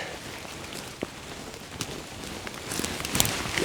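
Rain falling in a forest during mushroom picking, a soft steady patter with scattered louder drops and rustles close by.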